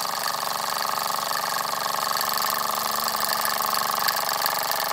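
A Latimer Production Plane L5 toy steam engine runs with a boiler feeding the inlet, making a loud, steady, rapid hissing and chuffing clatter that continues without a break and without talk.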